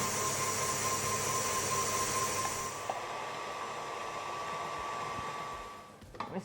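An electric mixer whips meringue for French-method macaron shells, a steady close whirring hum that drops to a lower, quieter drone partway through as the speed eases to medium.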